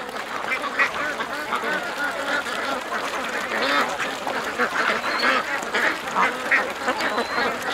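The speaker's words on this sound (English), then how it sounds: "I can see why the ducks are veering over here to go in and out" A large flock of over a thousand ducks quacks continuously near a swamp pen, a dense overlapping chorus from many birds at middle distance, with a voice occasionally over it.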